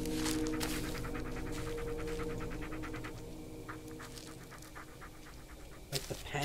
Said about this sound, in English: It is actually like cozy and reassuring having the dog.